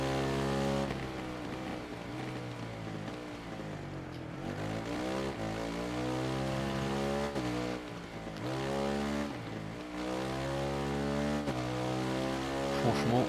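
A supermoto motorcycle engine in the racing video game Ride 3 revs up and down again and again, its whining note sweeping through repeated climbs and drops without pause.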